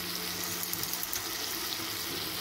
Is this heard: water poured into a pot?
yes